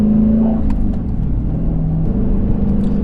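A 2009 Dodge Challenger SRT8 accelerates hard, its loud, deep engine roar filling the cabin as the revs climb and hold steady over a few seconds.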